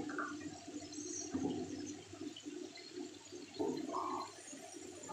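Water poured into a cooking pan holding spices such as turmeric and Kashmiri chilli, a close splashing pour with two swelling surges over steady kitchen background.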